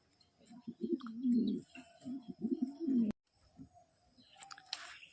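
Close, low cooing of a male white Cappuccino pigeon in repeated throaty bursts, a brief cut, then softer coos with a short flutter near the end.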